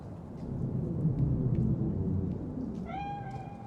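A cat in Cyberpunk 2077 gives a single clear meow near the end, rising over a low rumbling, thunder-like ambient background.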